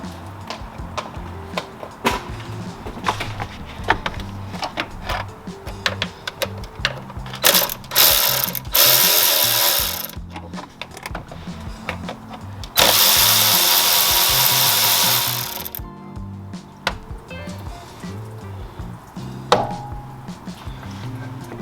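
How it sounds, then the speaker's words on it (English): Close, rapid clicking of a ratchet works on the 8mm throttle body bolts of a Ford F150 5.0, rising into two longer, louder ratcheting bursts among scattered metallic taps and handling noises. "we're going to undo this throttle body, which looks like two 8mm bolts"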